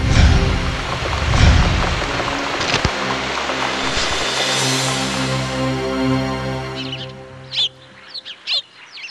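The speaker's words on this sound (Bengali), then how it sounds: "এই রে, শিলাবৃষ্টি হচ্ছে।" Hail and rain pelting down in a Bangla cartoon story about a flower farm, a dense, loud broadband patter for most of the scene that thins out near the end, where a few short bird-like chirps break through.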